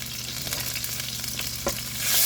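Softened butter melts and sizzles in a pan with leftover drippings, a steady low crackling frying hiss that stays close and even, growing a bit louder toward the end.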